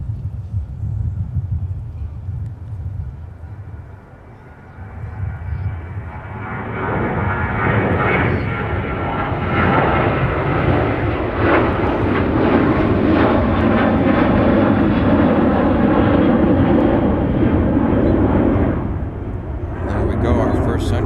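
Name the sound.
Sun Country airliner departing Minneapolis-St Paul airport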